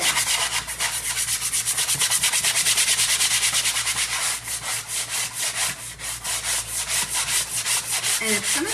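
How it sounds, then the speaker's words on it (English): A hand sanding a surface with rhythmic back-and-forth rubbing strokes, close and continuous, in a steady scratchy pattern with no talking. "So I am actually just gonna sand it."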